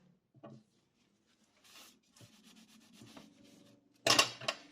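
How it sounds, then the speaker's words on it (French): Excess glue is rubbed off a scrapbook album page in faint, short rubbing strokes, separated by quiet gaps, and ends with a louder, brisk rub close by. "On enlève la colle qui ressort par les petits trous."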